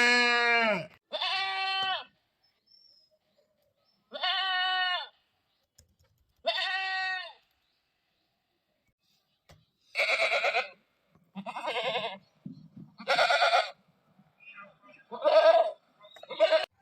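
Goats bleating in a village, several loud close calls spaced out across the clip, with someone talking to them in between.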